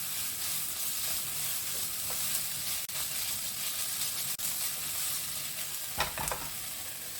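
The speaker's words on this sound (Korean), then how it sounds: "익을 때 마늘을 넣고 같이 볶아줍니다." Onion, chives and garlic stir-fry in oil in a pan, giving a steady close sizzle with a few scraping stirs and light clinks throughout, no talking.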